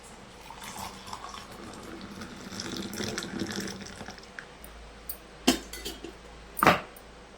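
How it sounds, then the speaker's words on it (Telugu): Freshly boiled water is poured into a cup in a home kitchen, giving a quiet, steady trickling splash, followed by two sharp clinks of the cup or utensils near the end. "వాటర్ అయితే కప్పులో పోసేసుకుంటున్నా."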